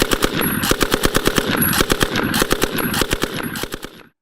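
A Lewis machine gun fires in rapid bursts, loud close rattling shots in a fast even rhythm with brief pauses between strings, ending abruptly.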